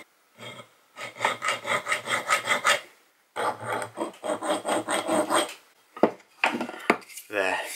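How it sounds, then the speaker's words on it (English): A hand file rasps notches into the head of a vintage 1960s hatchet, with quick rhythmic back-and-forth strokes in two close bursts followed by a few separate scrapes, loud and near. "File two little notches so that I can know where the paint goes to"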